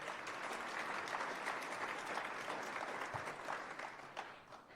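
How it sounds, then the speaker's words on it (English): An audience breaks into steady, sustained applause, a dense wash of many hands clapping at a public event, tapering only slightly toward the end. "So please give him a round of applause."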